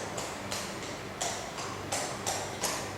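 Hooves clip-clop in an even trotting rhythm on a hard surface, about two beats per second, moderately close with no talking.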